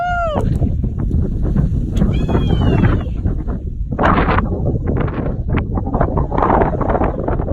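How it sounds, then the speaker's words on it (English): Strong wind buffets the microphone in a constant roar at the edge of a trail near Jerry Cabin Shelter, with a brief high whistling tone early on and occasional gusts. "It's windy."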